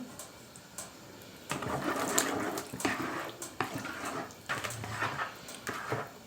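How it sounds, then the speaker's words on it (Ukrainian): Warm water poured into a bread dough mixture of flour and oil, a soft irregular splashing and trickling with occasional clinks, fairly quiet and close with no talking. "доливаю ще сюди 50 мл теплої води."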